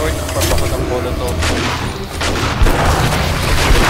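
Explosions and gunfire during a zombie horde night in the survival game 7 Days to Die, a dense, continuous roar of booms and shots with no let-up, mixed with a player's voice.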